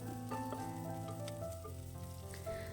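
Small shallots sauté in a pan for a Kerala-style carrot curry, a faint, even sizzle with light stirring, partly covered by a steady tonal hum or music.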